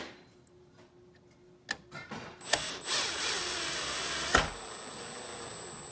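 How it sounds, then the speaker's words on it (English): A small handheld power drill drives screws into a 2015 Ford F150 Raptor-style grille, its motor whirring steadily at close range with sharp clicks and bumps as it starts and bites. "I'm just using a little drill."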